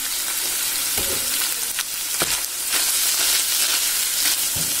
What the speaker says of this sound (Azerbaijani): Ürəyin içi üçün ət qovrulur.